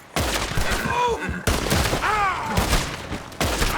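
A shootout in the video game Red Dead Redemption: loud, close gunshots ring out in rapid clusters, with ricochet-like whines and echoing cracks across a few seconds of steady gunfire.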